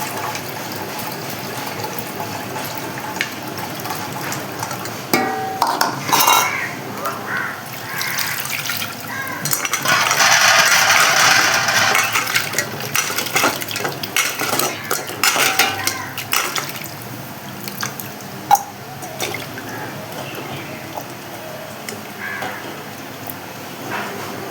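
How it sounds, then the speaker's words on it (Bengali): Soaked dried loitta fish drained and rinsed in water in a kitchen, with splashing and pouring water and clinks of a metal bowl or pot, plus a burst of running water midway. "এখন আমি জলটা ফেলে দিয়ে আবার ঠান্ডা জল"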